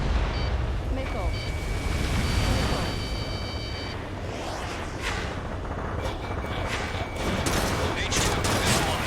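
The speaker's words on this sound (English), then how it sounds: "H2, missile launch" Missile launches and gunfire in the Ace Combat 7 video game, a continuous roaring wash of jet and weapon noise with bursts of shots, under a voice speaking over radio-style chatter.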